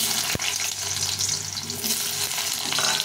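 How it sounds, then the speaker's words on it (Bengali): Potatoes fry in Fortune kacchi ghani mustard oil with a steady, close crackling sizzle, a single sharp knock near the start and occasional stirring scrapes. "প্রথমে আমি আলুটাকে একটু ভেজে নেব।"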